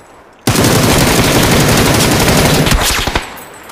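Sustained burst of rapid automatic machine gun fire in the battle royale game PUBG, loud and close, running for roughly three seconds before tapering into a few last scattered shots.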